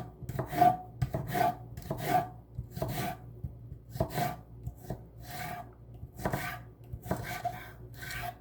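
A sharp knife slices through an onion on a board for French onion soup, a steady run of crisp, rasping cuts about every half second, close and fairly quiet with no talk.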